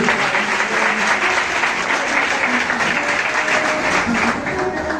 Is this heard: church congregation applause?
yes